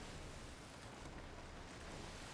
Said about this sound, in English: That's actually some decent waves there.